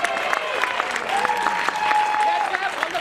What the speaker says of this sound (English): a huge round of applause for Second Nature for organizing this